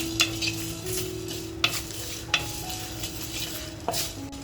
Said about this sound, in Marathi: जो मसाला घेतलाय ना तो हलकासा भाजून घेते